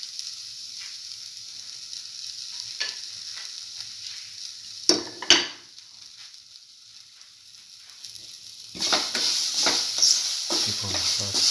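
Grated coconut fries in a pan with shallots, giving a soft hiss broken by a few scraping stirs, then a louder, brighter sizzle that builds toward the end.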